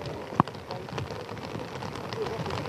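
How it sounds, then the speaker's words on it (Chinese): Heavy rain falls steadily over a wet, cold, foggy mountain area during a search for a missing hiker. It makes a continuous moderate hiss, with one sharp tap early on. "大雨下不停，山区又湿又冷"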